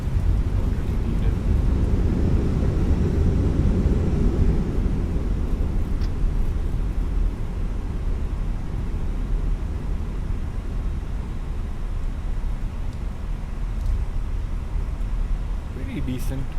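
Thrust reversers roar on a Fenix A321 rolling out after a gusty crosswind landing in a flight simulator, a steady broad rush of engine noise throughout with a voice talking over it.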